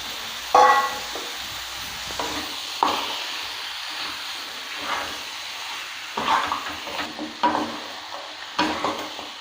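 Chicken with masala being stirred in a pan for chicken sukka, a soft steady sizzle under repeated scraping strokes and occasional clacks of the spoon against the pan, close and without talk.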